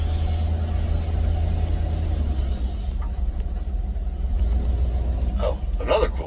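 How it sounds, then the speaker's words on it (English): An old pickup truck climbing a steep driveway, its engine a steady low rumble under strain with tire and gravel crunch near the end, close and continuous with no talking. "We're just pulling in my driveway, which is like climbing the Tetons."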